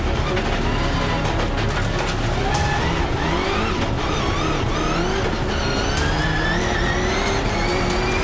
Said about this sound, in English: off the line, the blue and gray Subaru of Sverre Isachsen has launched into the lead